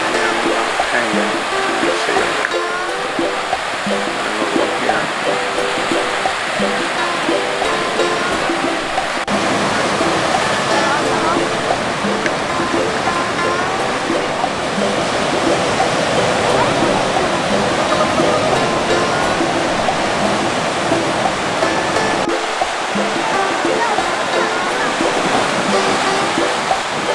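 Surf breaks on a black sand beach on the Big Island of Hawaii, a steady wash of roaring white noise with slight swells, close and continuous, without speech.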